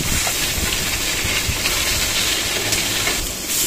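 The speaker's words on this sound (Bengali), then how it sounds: "টেবিল চামচ তেল দিয়ে ইলিশ মাছগুলো হালকা করে ভেজে নেব" Hilsa fish fry lightly in a tablespoon of oil in a pan, giving a loud, continuous broadband hiss that holds steady throughout and eases slightly at the end, with no voices.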